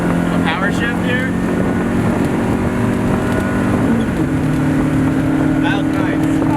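A Mazda NA Miata with a newly replaced flywheel and clutch drives on the road, its engine droning loud and close under wind buffeting, the pitch dropping and resettling through a gear shift midway.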